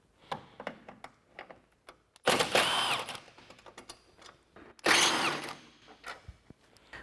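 Two loud bursts from a power tool back out 10mm headlight bolts on the passenger side of a 2014-2015 Chevrolet Silverado 1500, with light clicks and handling noises around them.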